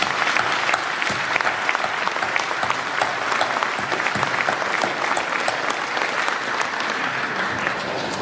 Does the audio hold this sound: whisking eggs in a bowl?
no